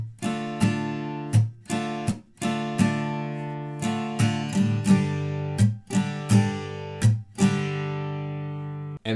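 Acoustic guitar strumming the chords of a song, with sharp rhythmic down and up strokes and muted chops, close and clear with nobody talking.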